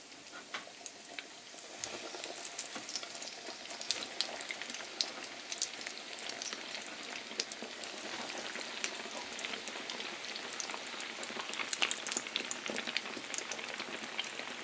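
Frozen cheddar and mozzarella cheese sticks deep frying in hot oil, a steady dense crackling sizzle with fine popping bubbles that holds evenly throughout at moderate volume, no voices.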